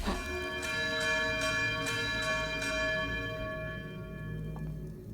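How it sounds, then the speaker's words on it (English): Church bells ringing in the Outer Wilds exploration game, a series of resonant tolls about every half second that strike early and leave a sustained hum decaying away, alongside ambient game tones. "Sounds like church bells ringing louder and louder."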